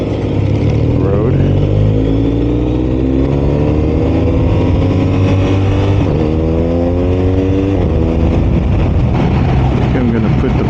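A BMW R 1250 RS motorcycle ridden along a curvy road, its engine droning steadily with rising and falling pitch as it shifts and accelerates, heavy wind rush throughout, and a rider's voice talking over it.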